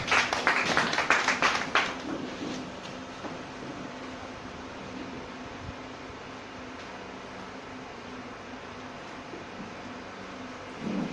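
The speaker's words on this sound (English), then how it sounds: "Clap your hands as you have your seat." Congregation at a church service clapping hands, a loud burst of dense applause for about two seconds that quickly fades into a steady background hum of fans or air conditioning.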